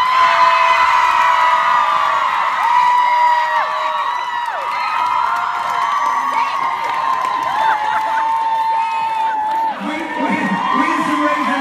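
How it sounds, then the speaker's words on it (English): A large live crowd at a fundraising event cheers, shouts and whoops loudly and continuously, with high excited voices rising and falling and scattered clapping. "In the company of this amazing crowd."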